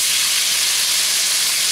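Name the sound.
tomatoes thrown into hot pan for tomato egg stir fry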